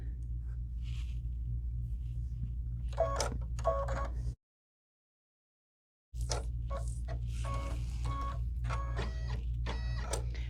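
An embroidery machine tacks golden yellow fabric down over a placement line on a pineapple tote, giving bursts of fast rattling stitching over a constant low motor hum. Near the middle the sound cuts out completely for about two seconds.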